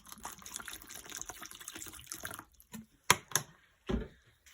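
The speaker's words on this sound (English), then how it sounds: "Probably should get a bowl of water going here" Water runs steadily into a bowl for a couple of seconds, splashing and trickling, then stops, followed by a few sharp clinks and knocks as something is set down.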